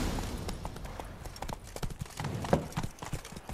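The horse Roach from The Witcher 3 gallops in quick, repeated hoofbeats, brisk and fairly close, with a few sharper thuds and no speech.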